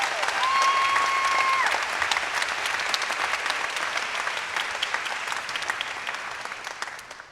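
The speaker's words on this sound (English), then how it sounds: "Give them a big round of applause." Loud, sustained audience applause at a university commencement ceremony for nursing, education and arts and sciences graduates, a dense wash of clapping that fades slightly toward the end, with a brief tonal whistle-like sound early on.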